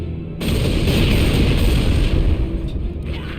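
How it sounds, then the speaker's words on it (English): Magnum sticky bullets in Resistance Retribution go off together like a cluster grenade, giving a dense, loud, continuous rumble of overlapping booms and pops that rolls on for several seconds after a sudden start. "Once enough of these bullets have been stuck, It's like a grenade of clusters going off"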